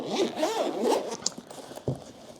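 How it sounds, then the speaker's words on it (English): The zipper on a QUOESD 8250A jump starter case is pulled open in a few quick, rasping strokes close by, followed by softer rustling and handling noises. "Nice satisfying zipper."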